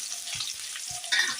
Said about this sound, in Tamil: அது கூட நம்ம வெட்டி வச்ச வெங்காயத்தை சேர்த்துக்கலாம்.